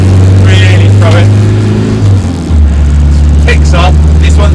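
A diesel Land Rover Defender 90 with a turned-up fuel pump and straight-through exhaust drones low and picks up speed, the engine rising in pitch beneath someone speaking throughout.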